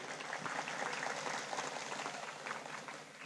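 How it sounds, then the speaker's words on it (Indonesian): Applause from the audience at an Islamic sermon gathering in Bangkes, Kadur, Pamekasan, a moderately faint, continuous patter of many hands clapping that tapers slightly toward the end. "Alhamdulillah, tepuk tangan"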